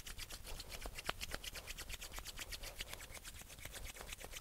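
Palms of the hands rub briskly together in a quick, even back-and-forth rhythm, a close dry friction sound repeated many times, quiet overall with no talking.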